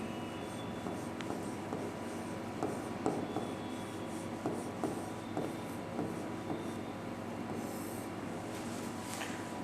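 Chalk or marker scratches and taps faintly on a board during a Sanskrit lesson, a soft intermittent writing sound over a quiet room hum.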